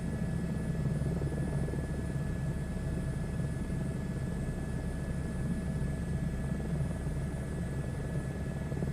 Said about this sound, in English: Just the sweet, sultry sound of our helicopter.